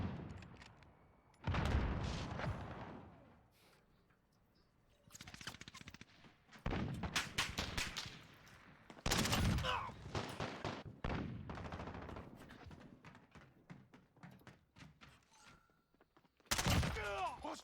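Gunfire in a Call of Duty video game, apparently including an AS VAL rifle. Loud bursts of automatic fire come in separate clusters with short quiet gaps between them, and a few heavier blasts.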